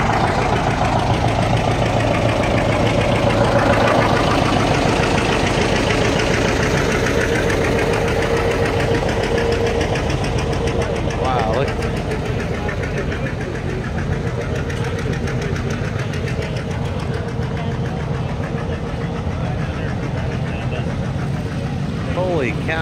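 Several tractor engines idling nearby as tractors line up for a tractor parade, a continuous knocking diesel rumble that stays loud and steady throughout, with faint voices mixed in.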